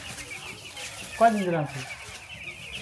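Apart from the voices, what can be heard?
medium-sized chickens clucking on a poultry farm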